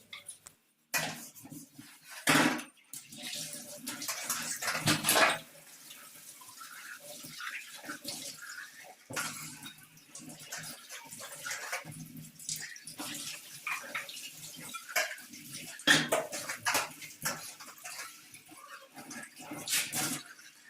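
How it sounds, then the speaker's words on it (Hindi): Running water splashes into a sink with intermittent scrubbing and clinking of dishes, steady and close, with louder bursts as items are rinsed. "फिर बर्तन को धो लेते हैं अच्छे से"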